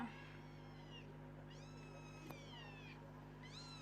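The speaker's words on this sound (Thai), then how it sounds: "นี่คลิปแมว" A cat meows repeatedly in a played clip, with several drawn-out, rising and falling meows separated by short pauses over a steady low background hum.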